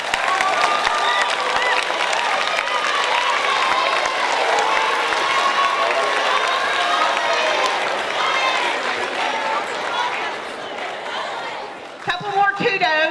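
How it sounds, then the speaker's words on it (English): An indoor audience at a school event claps for teachers, with dense sustained applause and scattered cheering that keeps going for several seconds before tapering off near the end. "So these teachers need a round of applause as well."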